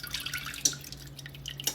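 Pan drippings whisked with hot water are poured into a pan, heard as a quiet trickle with a few sharper drips and splashes standing out over faint background noise.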